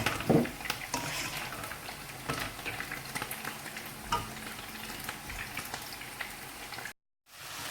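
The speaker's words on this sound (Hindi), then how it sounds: "अब हम अपना कीमा को भून लेते हैं।" Minced meat keema frying in oil in a pan, a close, continuous sizzle with scraping stirs and sharp crackles, ending in a short silent gap.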